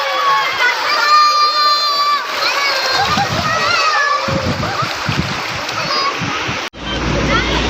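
Floodwater from the overflowing Mesuji River splashes and churns near flooded homes, with irregular bursts of splashing under shouting children and crowd voices.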